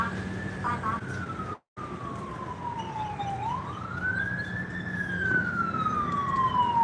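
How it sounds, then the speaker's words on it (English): A passing ambulance siren wails in long rising and falling sweeps, moderately distant, over low street traffic hum outside a condo in Mactan Newtown, with a brief dropout partway through. "Ambulance has just gone by"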